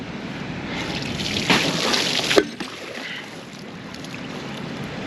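Pressurized liquid manure gushes out in a steady rushing, splashing flow, swelling louder for a moment before a sharp burst and then easing to a quieter trickle.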